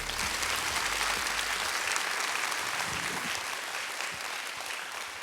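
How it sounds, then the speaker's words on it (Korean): An indoor audience at a book-concert lecture claps continuously to welcome a professor, a dense, even patter of many hands held at a steady level throughout. "큰 박수로 모시겠습니다"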